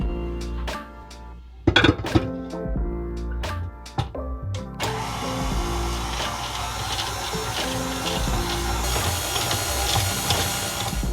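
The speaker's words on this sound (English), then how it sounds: "we'll bring it over to our mixer and mix it with our dough hook for about 5 to 7 minutes" A stand mixer fitted with a dough hook works pastry dough for a pumpkin cheese danish: a few sharp clunks and knocks at first, then a loud, steady motor whir that runs on without talk.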